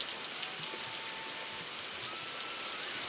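Steady rain patters densely on surfaces nearby, a constant hiss of drops with no voices.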